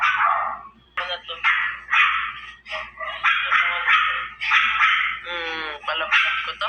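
Several dogs bark and yip in quick repeated bursts, close and fairly loud, with some whimpering mixed in, barking almost continuously over the whole stretch.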